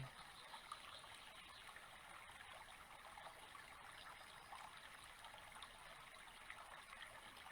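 A bubbling brook trickles steadily and softly throughout, a continuous, even wash of running water with no voices, heard as quiet background in a calm room.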